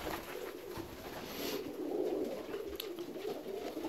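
Fancy pigeons including Indian Fantail and Saxon Swallow breeds in a loft, soft low cooing murmurs running through the moment, close by against a faint background hiss.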